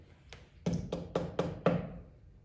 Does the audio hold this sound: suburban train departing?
no